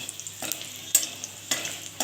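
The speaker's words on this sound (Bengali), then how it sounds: "দেখো এই দেখো শুকনো লঙ্কাটাকে আমি একটুখানি ভেজে নেব।" Dried red chillies fry in hot mustard oil and are stirred, giving a steady close sizzle broken by a few sharp scraping strokes of a spoon against the pan, with no voice.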